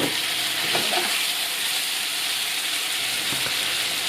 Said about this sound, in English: add the meat to the pan. Stir that and cook it for a few more minutes.